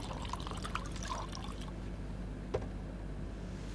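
Drinking water pours into a container in a room, a soft, close trickle and splash that fades after about a second and a half, with a faint clink later on.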